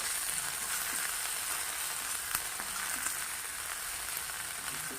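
Hadga flower vegetable sautéing in a pan with a pinch of asafoetida, a quiet, even hiss of frying with faint occasional ticks and crackles, steady throughout.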